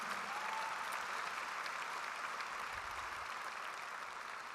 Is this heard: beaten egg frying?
no